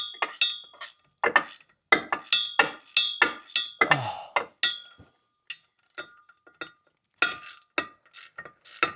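Ratchet tightening the propshaft bolts on a Land Rover Discovery, rapid clicking bursts in an irregular rhythm with short pauses between strokes, close and crisp with no talking.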